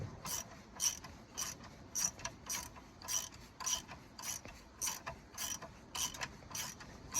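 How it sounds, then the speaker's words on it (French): Ratchet with a 16 mm socket loosening a nut while replacing a car's steering tie-rod end, a series of crisp clicking ratchet bursts in an uneven rhythm, close and fairly faint, with no talking. "avec une clé de 16, donc c'est une pipe, hein, on va utiliser un cliquet. On va desserrer l'écrou ici."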